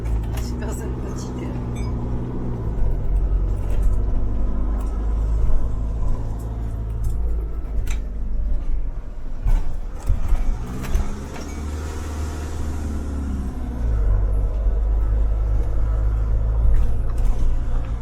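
Cars rumble past on a road beside a camper van pulling over to the side, a steady engine drone with passing vehicles swelling and fading while people talk inside.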